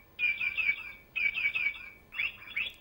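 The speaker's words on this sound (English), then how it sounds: "This young boy is fascinated to the chirping sound of the little bird." Three bright chirping bursts from a small bird, each a quick cluster of high tweets about a second apart, close by and clear against faint background hiss, with no talking.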